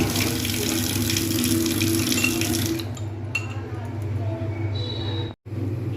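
Running tap water washes a whole eggplant in a kitchen sink, a steady close splashing stream that thins and breaks off briefly near the end, with small clinks and handling sounds.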